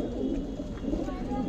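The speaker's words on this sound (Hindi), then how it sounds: "तुलसी चांदनी कबूतरी देखिए भाई आप" Tulsi Chandni pigeons cooing continuously in a loft among other birds, soft low murmuring coos layered with background bustle and talk nearby.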